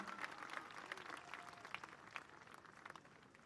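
A festival crowd applauds at the Tāpati Rapa Nui celebration, a steady wash of many hands clapping, faint and distant, running through the whole stretch.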